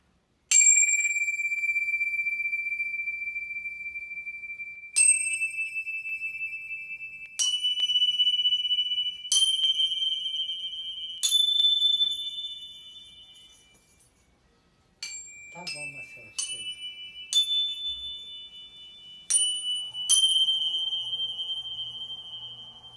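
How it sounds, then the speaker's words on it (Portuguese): A handmade spinning bell instrument, the girassino, rings out in a series of bright metallic strikes, each tone sustaining and wavering as it whirls, with a Doppler-like rise and fall, several separate hits across the stretch. "gira sino, ainda tem o efeito Doppler"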